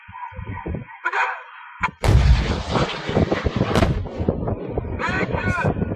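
Tank cannons firing during the Fuji live-fire exercise, a close loud blast booming at about two seconds and rumbling on, with sharper shots and reports afterward and voices calling out over the gunfire.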